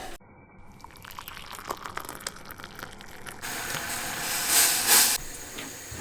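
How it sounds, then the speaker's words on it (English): Double cream coming to a simmer in a hot pan with white wine and lemon, a steady hiss that swells louder toward the end, with faint drips and bubbling throughout and no voices. "we're just going to let the double cream come to a simmer"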